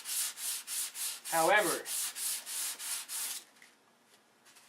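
Rhythmic back-and-forth sanding strokes on primer, close and steady, a brief spoken word partway through, then the scraping stops and it goes nearly quiet.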